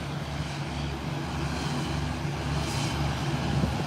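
A British Airways 777 airliner climbs away after takeoff at a Caribbean airport, its jet engines a steady, distant roar with a broad rumble that holds fairly even throughout.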